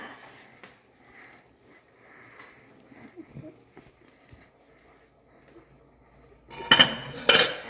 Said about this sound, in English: Now, let's move these eggs to the ice bath.